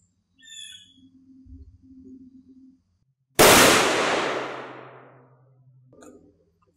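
A single loud rifle shot of a commercial 7.62x51 hunting round striking a body armor plate, a sharp crack with a long decaying tail, preceded by faint low rumbling and high chirps.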